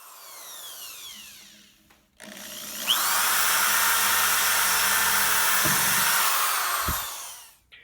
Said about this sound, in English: I'm drilling a couple of holes along the outer edges opposite of each other